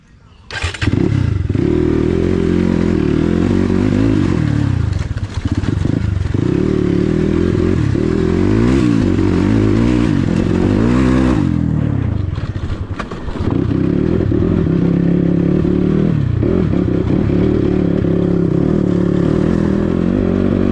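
A motorcycle rides a rough track, its engine running loud and close the whole time with shifting revs, clattering and thumps over bumps, and a brief dip in the middle before it picks up again.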